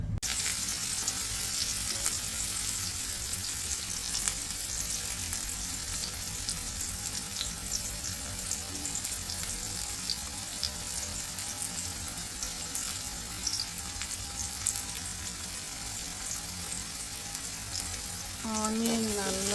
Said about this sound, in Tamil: தேவையான அளவு எண்ணெய், அதில் கடுகு சேர்த்துக்கோங்க. கடுகு பொரியிற வரைக்கும் வெயிட் பண்ணுவோம்.